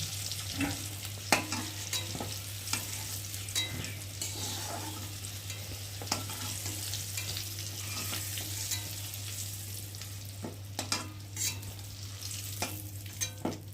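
Pointed gourd fries in a pan with a steady, continuous sizzle, punctuated by occasional sharp scrapes and clicks of stirring, close up with no talk.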